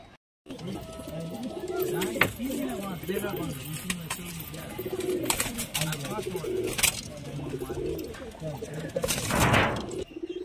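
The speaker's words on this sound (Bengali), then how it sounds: "দাদার কাছে পায়রাগুলো অসাধারণ পায়রা, সব লং সাইজ পায়রা।" Laljira pigeons, long-bodied fancy birds, coo in repeated low, rolling phrases close by while someone talks over them, with a few sharp clatters and knocks among the calls.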